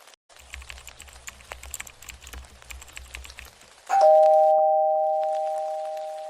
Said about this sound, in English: when the doorbell rang